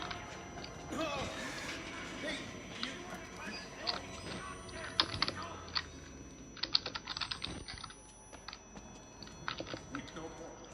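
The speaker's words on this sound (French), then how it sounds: "c'est assez chiant d'entendre mon clavier" Quiet keyboard typing runs in bursts of clicks, close by, with faint background noise and occasional soft voices.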